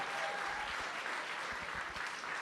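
Gala audience applause at a youth leadership fellows event: a steady, dense wash of clapping that holds at an even level throughout, with no voices standing out.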